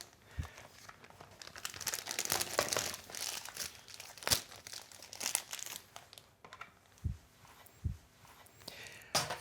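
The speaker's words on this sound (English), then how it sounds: "I take a piping bag." A plastic piping bag being handled in a pastry kitchen, irregular crinkling and rustling bursts with a few soft thuds, fairly quiet and close.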